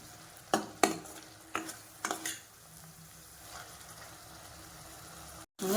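Quail pieces go into a spiced pan with separated oil. A few sharp clatters and scrapes of stirring come first, then a low, quiet sizzle, with a final knock at the end.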